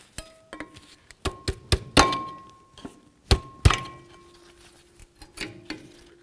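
Brake pads are pried out of the rear caliper bracket on a 1999-2007 Ford F-250, producing a string of sharp metallic taps, clunks and clinks at an uneven pace, close by, with no speech.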